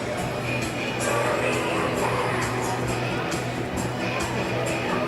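Crowd murmur fills a junior hockey arena during a Wolseley Mustangs versus Esterhazy Tundra game in Esterhazy, Saskatchewan, a steady distant hubbub of a few hundred fans with faint scattered sharp knocks.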